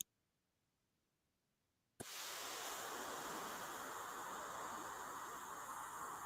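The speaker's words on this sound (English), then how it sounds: "I found a beautiful ocean. I will go ahead and play the sound as well." Ocean waves play as a steady, broad wash of surf noise. Near-silence gives way abruptly partway through to a constant, even roar that holds without pause until the end.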